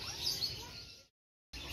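Lovebirds chirp amid the busy hubbub of a bird market in Yogyakarta, a steady high twittering chorus that cuts out briefly and then resumes.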